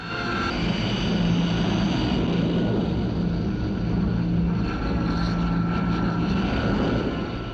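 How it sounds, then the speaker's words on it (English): Hawker Siddeley Kestrel VTOL jet aircraft lifting off from a small clearing, a loud continuous engine roar filling the whole clip with steady broadband rumble and whine, no voices. "The flight of Kestrels can get away from this small clearing in a matter of minutes"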